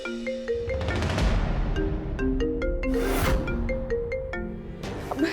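A phone rings in a domestic Hindi TV drama scene, a repeating electronic ringtone melody of short tonal notes sounding loud and steady for several seconds over a busy background.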